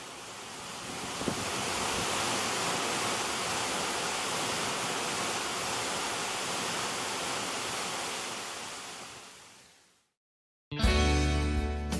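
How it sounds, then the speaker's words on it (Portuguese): A 72-metre waterfall crashes down between high rock walls, a loud, steady roar of rushing water that fills the scene without a break, then fades out abruptly near the end. "Cercada por altas paredes rochosas, a água despenca com força, provocando uma garoa permanente e refrescante no verão."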